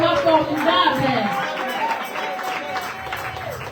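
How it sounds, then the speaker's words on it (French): Audience at a women's church convention cheering and applauding, a dense sustained roar of claps and voices that stays loud throughout, with a few whoops rising above the crowd. "Tu peux acclamer pour toi-même."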